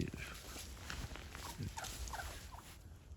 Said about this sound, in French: Donc le dindon il est ressorti, donc je vais essayer de vous montrer mieux.